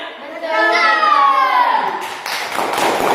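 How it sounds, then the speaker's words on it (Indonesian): Schoolchildren in a classroom cry out together in a rising, then falling chorus before breaking into close, busy clapping with hand taps and thumps. "Oke, tepuk tangan."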